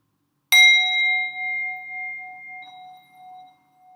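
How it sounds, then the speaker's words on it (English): A singing bell is struck once for a ceremony, giving a sharp bright strike that rings on as a clear sustained tone, slowly fading and gently pulsing in near silence. "Let's open our ceremony with the singing bell"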